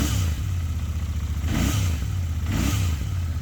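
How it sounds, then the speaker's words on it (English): A warm 2021 Royal Enfield INT650 Baker Express motorcycle twin at a steady low idle, given a few quick throttle blips that swell and fall back at regular intervals, close up and with no talking. "let's give it a couple quick revs. You can hear that engine."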